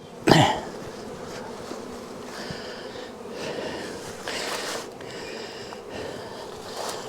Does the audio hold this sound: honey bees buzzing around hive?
yes